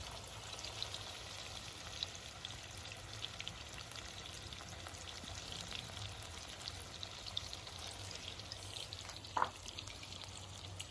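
Loitta fish pakoras fry in hot oil in a Bengali home kitchen, a quiet, steady bubbling sizzle with a brief clink partway through.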